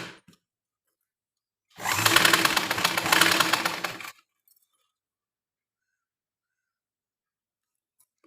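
A sewing machine stitches around blouse fabric in one short, loud close burst of rapid whirring needle clatter lasting about two seconds, with near silence before and after.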